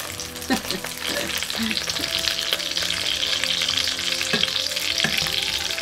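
Bacon and barbecue chicken frying together in a pan, a dense continuous sizzle up close with occasional light stirring knocks and scrapes.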